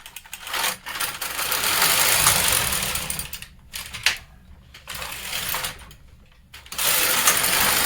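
Knitting machine carriage pushed across the needle bed for two rows, giving loud rasping, clattering sweeps separated by short pauses, close up with no voices.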